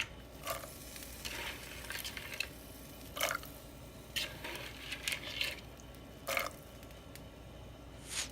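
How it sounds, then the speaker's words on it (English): Soaked beans tipped into a pot of water for rice and beans, giving several short wet splashes and stirring squishes at close range with quiet gaps between them. "And now I'm going to add my soaked beans."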